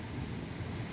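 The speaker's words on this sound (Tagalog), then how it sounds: "malakas ang hangin" Strong wind at sea, with no storm present, roars as a faint, steady broadband rush with low churning rumble and no pauses.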